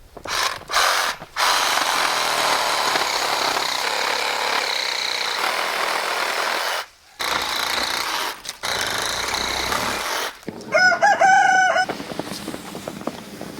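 A steady broadband noise runs for long stretches with abrupt cutouts, then a rooster crows loudly near the end among clucking fowl.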